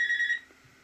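A cordless telephone rings with a bright electronic tone that lasts under half a second, then cuts off, leaving a quiet room.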